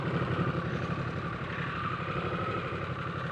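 A 2022 Harley-Davidson Nightster 975 motorcycle rumbles steadily at low speed on a beach, its engine a continuous muffled drone under wind noise, with no voices.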